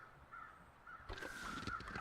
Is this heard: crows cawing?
yes